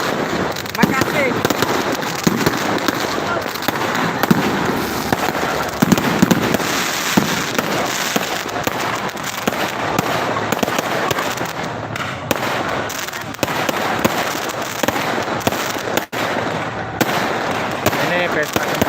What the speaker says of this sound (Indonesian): Ini pesta kembang api di Kabupaten Sopeng.